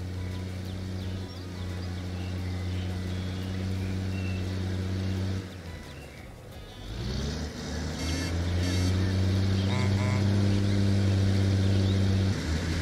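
A Mack Superliner truck engine drones steadily in American Truck Simulator, a low idle hum that briefly dips and thins before building back into a fuller rumble, with some faint clicks and talk mixed in near the end.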